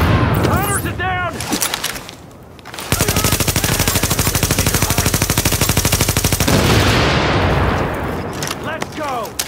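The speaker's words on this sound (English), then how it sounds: "Maintain heavy fire!" Heavy automatic gunfire from Tom Clancy's The Division, a dense rapid burst of shots lasting several seconds, loud and close, with voices talking before and after the firing.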